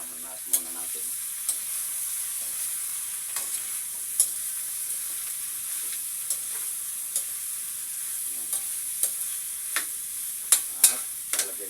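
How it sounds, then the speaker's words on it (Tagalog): Duck meat sizzles steadily as it fries in a pan, with a constant high hiss and scattered sharp ticks from the spatula stirring it; no one talks. "halo-haloin na muna natin."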